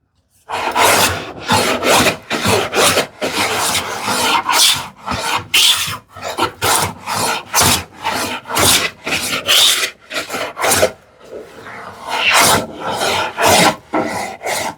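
A No. 5.5 hand plane smooths a wood surface in repeated loud, rasping strokes, each pass a few tenths of a second long with brief pauses between, close up and without talk.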